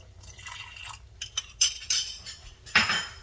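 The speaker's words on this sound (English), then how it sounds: "But then whisk right away, because that cornstarch will thicken up for you." A whisk works cornstarch into a salmon sauce, giving scattered light metallic clinks and scrapes against the pan in short bursts, with a louder cluster near the end and no talking.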